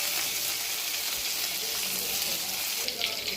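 Onion fries in a pan for chow chow kootu with a steady, close sizzle and frying hiss, plus occasional stirring scrapes, and no talking.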